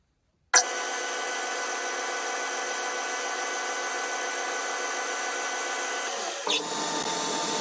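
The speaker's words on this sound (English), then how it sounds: "I'm going to drill a hole in the end and cut a thread into it." A drill bores a hole into the end of a bronze lighter part mounted in a lathe chuck, giving a steady high whine that runs for several seconds before a brief scrape and a slight change in tone near the end.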